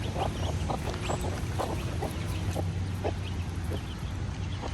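A broody hen guarding young chicks gives soft, repeated clucks over a constant background of farmyard noise, with faint higher peeps mixed in.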